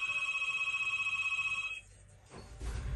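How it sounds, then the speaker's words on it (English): A telephone rings with a steady pulsing electronic tone for nearly two seconds, then stops, leaving quieter rustling and background noise. "Phone's ringing, it's not the time."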